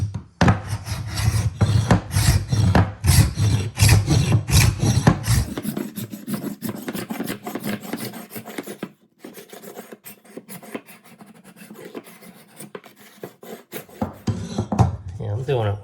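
A hand scraper drags across an old hardwood floor over 80 years old in rapid, rhythmic rasping strokes, close and loud, giving way to longer, steadier scraping with a brief pause.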